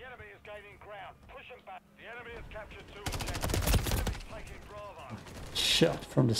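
Call of Duty Modern Warfare 3 open beta match: rapid bursts of automatic gunfire crackle loudly over game radio chatter and voices, with a sharp cluster of shots midway and more fire near the end.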